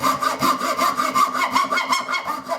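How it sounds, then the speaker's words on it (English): A Japanese carving rasp scrapes along a wooden bass guitar neck in quick, steady back-and-forth strokes, close and rough-edged, repeating about three to four times per second with no talk. "using this sort of Japanese carving chisel, carving rasp, or file even"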